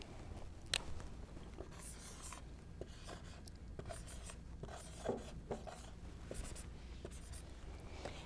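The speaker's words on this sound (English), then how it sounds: "if I write my name for you" A hand writes a name, the pen scratching and rubbing steadily in soft, close strokes against a quiet background.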